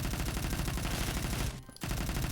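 An LMG fires in the video game Phantom Forces in a steady rapid stream of shots, loud and close, broken by one brief pause before it resumes.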